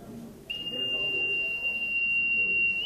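Simulated tinnitus: a single steady, piercing high-pitched whistle tone starts abruptly and holds without wavering, sounding over faint background murmur.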